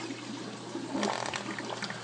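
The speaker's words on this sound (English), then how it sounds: "It has a bad gurgling sound." Wet/dry trickle filter and its plumbing on an aquarium rack, with water pouring through and gurgling steadily at close range, the bubbling getting louder and busier partway through.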